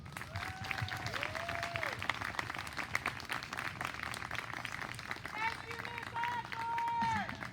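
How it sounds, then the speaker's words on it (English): Audience applause for fifth grade students at a moving-up ceremony, steady clapping from a crowd throughout, with a few whistle-like tones rising over it. "let's give our students a round of applause"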